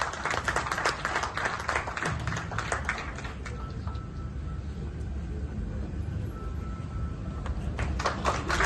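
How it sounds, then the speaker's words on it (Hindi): Applause at a national conference award ceremony on blood donation and thalassemia prevention, moderately loud clapping with stronger bursts at the start and end and a quieter stretch in between. "जोरदार तालियां दोस्तों"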